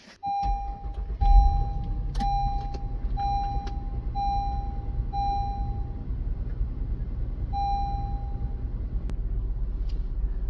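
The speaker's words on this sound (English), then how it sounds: "Now you're ready to start your vehicle." A car engine cranks and settles into a steady low idle while a dashboard chime beeps repeatedly over it. No one speaks.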